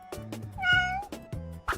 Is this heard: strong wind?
no